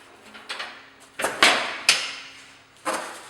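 An MDF ceiling access panel door for wallboard is pushed shut by hand, making a handful of sharp knocks and clacks spaced over about three seconds, fairly close and with no talk.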